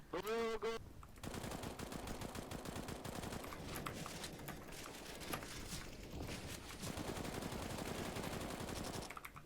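Rapid automatic gunfire rattles through a shooter video game match in dense, continuous bursts, mixed with other game noise for nearly ten seconds after a short tonal cue at the start.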